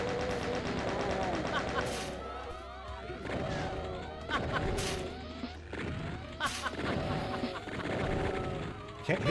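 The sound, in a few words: enemies shooting pies at the player in a video game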